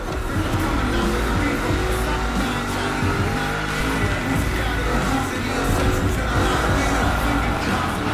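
Monster trucks race in The Crew Motorfest, their engines roaring loud and unbroken, with tyres squealing and skidding throughout the close, busy mix.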